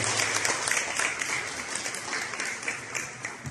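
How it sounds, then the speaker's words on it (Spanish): An audience applauds a doctor being introduced at a research panel on global innovation and entrepreneurship, with steady continuous clapping throughout and no clear speech. "Le damos un fuerte aplauso, por favor, a la doctora Xochitl."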